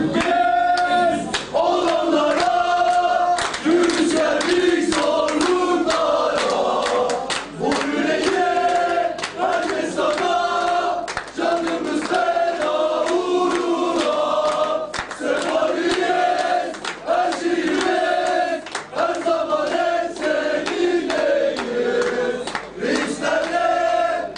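Fenerbahçe supporters chant together at a club association opening in Beylikdüzü, a loud, rhythmic crowd chorus with sharp claps and shouted accents running continuously throughout.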